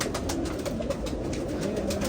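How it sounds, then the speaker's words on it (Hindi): Pigeons in a loft kept by a fancier with hundreds of birds, cooing softly and steadily over a dense, continuous murmur of flock noise. "देखो कबूतर, ये देखो बहुत उम्दा कबूतर है।"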